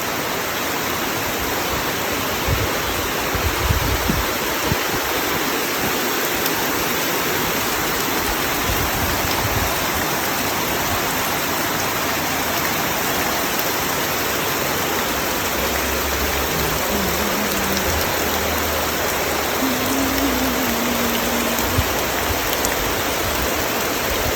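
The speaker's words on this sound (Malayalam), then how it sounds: "മഴ നല്ല തിമിർത്ത് പെയ്യുന്നുണ്ട് കേട്ടോ" Heavy rain pours in a dense, unbroken roar that holds steady throughout, loud and close, with no voices.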